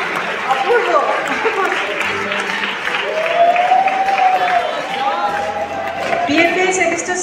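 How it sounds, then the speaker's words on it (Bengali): Audience applause fills an art exhibition award ceremony at a government art college, a steady sustained clapping from a crowd with a few voices calling out over it, staying loud throughout. "জোরে হাততালি দিও"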